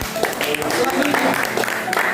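A congregation at an Easter retreat worship session claps, a busy wash of applause running through the moment with voices heard among it.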